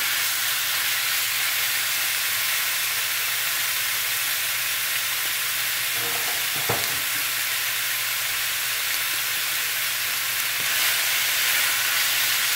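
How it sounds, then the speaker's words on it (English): Cube steak pieces fry in olive oil in a pan over medium-high heat, giving a loud, constant hiss and sizzle with a few brief clunks as meat is added. "I'm going to start adding my meat into my pan."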